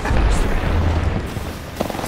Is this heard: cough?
no